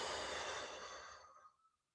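A long, soft breathy exhale during a Pilates curl-up in a recovery workout, close and quiet, tapering off into silence.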